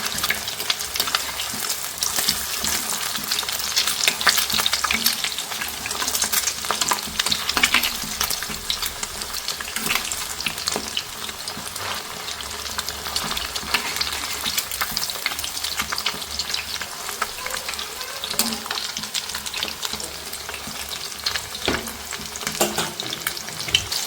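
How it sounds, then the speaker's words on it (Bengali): Chicken fries in a hot pan for a dragon chicken dish, with a steady crackling sizzle and repeated scraping and clattering strokes as it is stirred and turned, close and continuous with no talk. "একটু ভালো করে নাড়াচাড়া করে উল্টে পাল্টে ভাজতে হবে"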